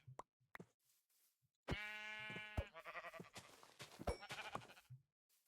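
Sheep bleat in a survival video game, a long wavering bleat followed by several shorter ones alongside a few soft knocks, fairly close and clear with no talking.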